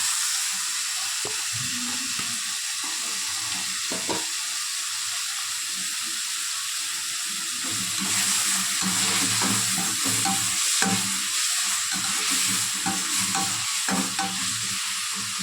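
Onions and spices sautéing in a pan for a sardine curry, a continuous close sizzle with repeated scraping stirs of the ladle, growing a bit louder midway, with no voices.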